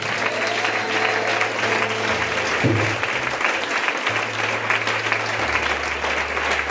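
A church congregation claps and cheers in steady, dense applause throughout, loud and close, with crowd voices and low musical tones underneath.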